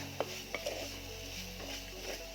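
Ginger and garlic paste is stirred in a pan for a fish curry, soft scraping and light clinks of a spoon against the pan over a faint sizzle, close and quiet.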